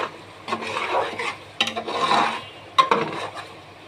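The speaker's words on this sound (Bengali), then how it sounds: "এখন নাড়া দিয়ে দিচ্ছি।" A spoon stirs spicy beef bhuna in a cooking pot, making repeated scraping and rasping strokes in three or four bursts, fairly close and moderately loud.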